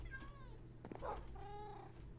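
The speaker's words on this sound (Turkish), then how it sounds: "Kediler burada." Cats meow in the Minecraft video game, a few short, faint mews and cries rising and falling over a low steady hum, with no talk over them.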